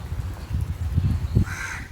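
A crow caws faintly a few times in short harsh calls, followed by a higher rasping call near the end, over soft low background rumble.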